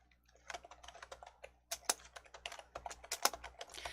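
A scenario name is typed on a computer keyboard in an Excel spreadsheet, the keys clattering up close in an irregular, busy stream of taps for several seconds with no talking.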